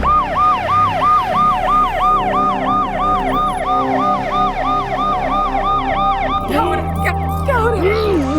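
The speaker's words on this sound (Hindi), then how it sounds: "एम्बुलेंस बुलाओ।" An ambulance siren wails loudly and steadily in a repeating rising-falling cycle, close by, with engine rumble beneath and a few voices breaking in near the end.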